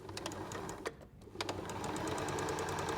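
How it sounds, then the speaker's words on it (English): A sewing machine stitches a seam on chequerboard quilt blocks, a close, steady rapid clatter of the needle with a brief pause about a third of the way in before it picks up again and runs evenly. "Sew down one side"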